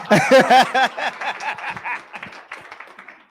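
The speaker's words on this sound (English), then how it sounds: "We usually hear claps when we're at the town hall" Audience applause at a town hall policy gathering: dense, loud clapping from a crowd that starts strong and gradually thins and fades over a few seconds.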